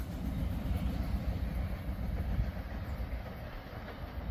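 A freight train rolls along railroad tracks near Huron and Vermilion, Ohio, giving a continuous low rumble with faint rail noise, steady and moderately distant throughout, with no talking.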